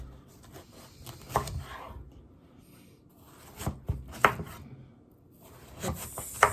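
A knife chops through a yellow watermelon, the seeded fruit red inside, in a series of crunchy cutting strokes on a board, clustered hits with quieter pauses between, close and fairly soft.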